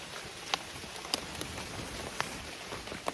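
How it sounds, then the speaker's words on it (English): Rain falls at a trail campsite, a soft continuous patter with scattered sharper drops tapping close by at irregular intervals. "It started raining as soon as I finished setting up."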